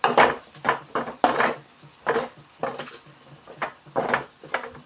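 A spoon scrapes and knocks against a pot while gizzard chicken masala with a sour tamarind-style addition is stirred, giving sharp, close clinks in an uneven rhythm with soft scraping between them.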